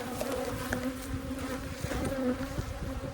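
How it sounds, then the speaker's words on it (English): Dense, steady buzzing of many angry honey bees swarming close by at a hive during a mid-August inspection, a constant agitated drone with individual insects passing near. "As you can probably tell, these bees are not happy."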